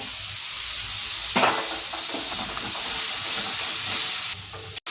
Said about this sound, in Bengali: মশলাটা ভালো করে কষিয়ে নিয়েছি